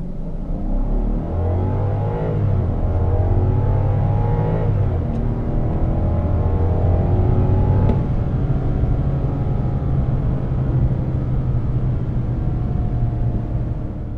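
A 2015 Kia K900 with its V8 engine accelerating, a steady loud rumble with rising, sweeping engine tones as revs climb and shift, continuous and close with no talk over it.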